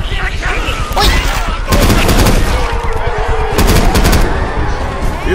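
Rapid gunfire from Left 4 Dead 2, with bursts of automatic fire and loud shots crowding together over several seconds, while game voices sound underneath.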